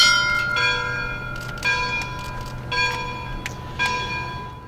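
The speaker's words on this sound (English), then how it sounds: "We're going to toll the bell for Omaha." Church bell tolled for Omaha Beach at a D-Day 75th anniversary program at the Museum of American Armor, five rich ringing strikes at steady intervals, each with a long shimmering decay over a low background hum.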